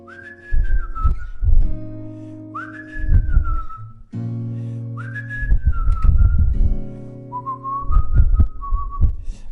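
Acoustic guitar playing a chord progression with plucked bass notes and strums, close and clear, while a whistled melody glides above it in four phrases.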